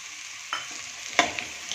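Half a bowl of green peas goes into a frying raw jackfruit curry, prompting a soft sizzle followed by a few scraping stirs of a spoon against the pan, close and fairly quiet.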